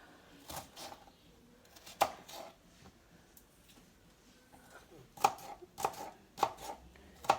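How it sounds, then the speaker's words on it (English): A knife dices vegetables on a cutting board at home, giving sharp separate chops in small clusters, some single strikes and a quick burst of several near the end, close and fairly loud against a quiet room. "I'm just gonna dice."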